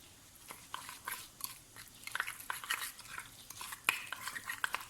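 Cumin, dried rosemary, black pepper and salt are stirred into oil in a pot, soft scraping and clinking of a utensil against the pot in irregular strokes, close and quiet with no talk.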